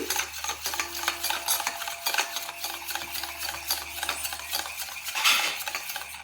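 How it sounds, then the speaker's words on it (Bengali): Beaten egg with salt stirred by hand in a bowl, a continuous soft scraping and tapping of a utensil against the dish, fairly quiet and uneven in rhythm with no talking. "আমি আবার ভালো করে ঘেঁটে নিচ্ছি"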